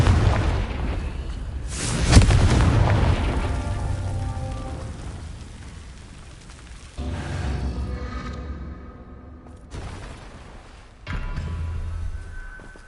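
A Confringo fire spell goes off in Hogwarts Legacy with a loud booming explosion, then a long crackling, debris-like rumble that fades. Further muffled blasts and rushing noise follow at intervals.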